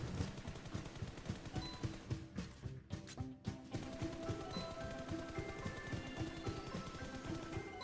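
Rapid automatic gunfire in the mobile battle royale game BGMI rattles on without pause, a dense, steady stream of shots that fills the whole stretch, with a brief dip in the middle.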